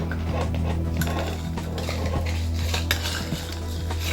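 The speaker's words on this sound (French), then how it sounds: "Maintenant que tu as remué tous les ingrédients" A mojito being stirred in a glass with ice and a spoon, steady close clinking and rattling of metal against glass and ice, continuous and fairly quiet, with no talking.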